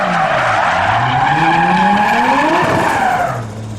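A car doing donuts at a Japanese car meet in Reading gives a loud, continuous tire skid with a revving engine that rises and falls in pitch, close and steady, easing off slightly at the end.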